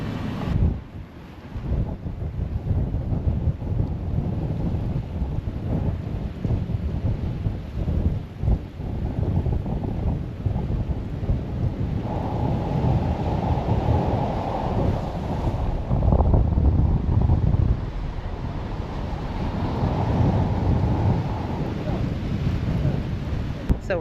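Strong, steady wind buffets the microphone, with a continuous roar of surf and waves underneath, where the Caribbean Sea meets the Atlantic Ocean.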